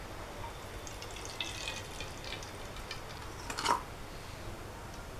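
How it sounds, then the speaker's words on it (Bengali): Oil heats in a kadai with a faint, steady sizzle and soft crackle, with a slightly louder flare of bubbling near the end. "দেখেন তেলটা ফুটে গেছে।"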